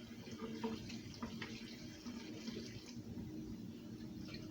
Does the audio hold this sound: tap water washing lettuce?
yes